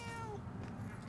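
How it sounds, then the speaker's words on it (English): A cat meows once in the video game Murdered: Soul Suspect, a soft drawn-out cry over a low game background hum. "Cat again."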